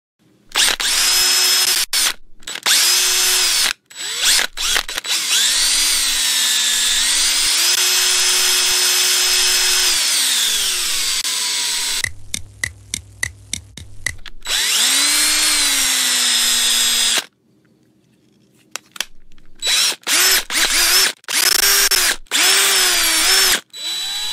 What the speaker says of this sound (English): now it's time to drill the ground